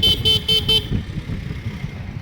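A vehicle horn on a road honks in a few quick repeated toots over a low engine rumble, then stops while the motor noise carries on.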